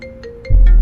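A phone ringtone sounds for an incoming call in a Hindi audio drama, a few quick electronic beeps followed by a sudden low thud.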